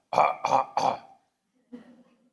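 A person gives three quick, close coughs in a row, followed after a short pause by a softer throat-clearing grunt, in an otherwise quiet room.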